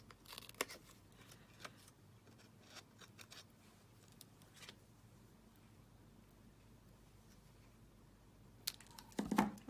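Scissors cutting the edge of a dimensional adhesive strip for a card, a few quiet snips and paper rustles, with more handling noise at the end.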